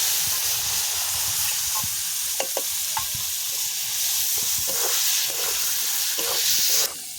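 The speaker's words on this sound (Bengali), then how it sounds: "এই দেখো এগুলো ভাজা ভাজা হতে থাক" Spices frying in oil for a fig and potato curry sizzle steadily and loudly up close, with scattered stirring clinks and scrapes of a utensil in the pan throughout.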